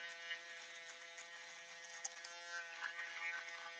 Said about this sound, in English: And the foil shaver.